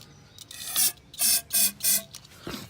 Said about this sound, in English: let's try some good old carb cleaner